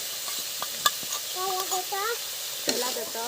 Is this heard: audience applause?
no